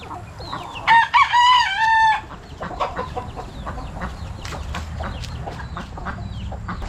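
Free-range chickens out in a garden in fall, with a rooster crowing loud and close once, then a steady run of scattered clucks and scratching that carries on after it, with no talk.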